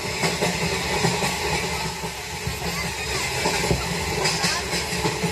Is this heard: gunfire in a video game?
no